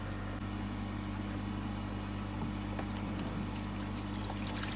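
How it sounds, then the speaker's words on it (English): Pond water poured into a bucket at a koi pond build, a soft continuous pouring hiss over a steady low hum, with splashing growing clearer toward the end. "fill it with a bit of pond water, so 20 litres of pond water"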